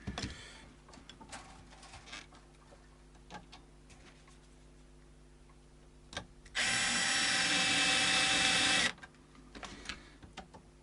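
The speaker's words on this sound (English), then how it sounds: "And we'll put one or two screws back in." A power driver whirs steadily for about two seconds, driving a screw back into an Epiphone Dot left-handed guitar. Faint ticks and handling sounds over a low background hum come before and after.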